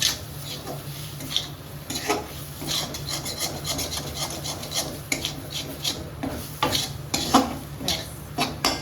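Thick sweet pera mixture stirred in a pan over a low flame, a steady rasping scrape of spoon against metal with irregular louder strokes, close up and without talk.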